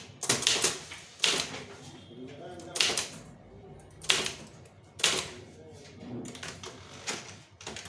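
A keyboard clatters in uneven bursts while a Tamil letter is typed, each burst of keystrokes separated by short pauses, with a voice talking in the background throughout.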